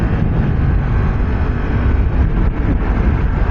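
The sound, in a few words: Yamaha MT-10 SP motorcycle accelerating, shifting gears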